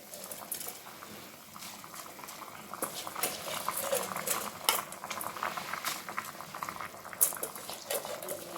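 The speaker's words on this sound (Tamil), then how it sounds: "இப்போ நல்லா கொதிக்குது" Water boiling hard in a pot for tomato rice, a steady close bubbling and popping that carries on throughout with no voices.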